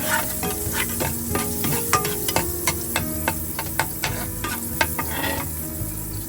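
Garlic and onion sautéing in a pan of oil and butter, a steady close sizzle broken by frequent sharp scrapes and taps of a stirring utensil, no talking.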